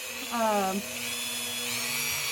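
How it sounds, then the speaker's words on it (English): A Dremel rotary tool on a flex shaft, fitted with an 80 grit sanding grinder, works on a toy figure being prepped for painting. It gives a brief whine that rises and falls for about half a second, with talk around it. "I have my Dremel. I like the flex shaft"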